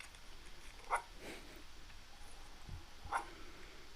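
A puppy gives two short, sharp yips about two seconds apart, close and fairly faint against a quiet room.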